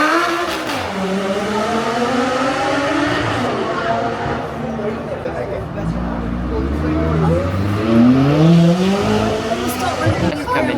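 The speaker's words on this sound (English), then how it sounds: "road legal Lamborghini Sesto Elemento" A road-legal Lamborghini Sesto Elemento supercar driving at the Goodwood car event, its engine loud and close, revving and rising through the gears, with a voice speaking over it.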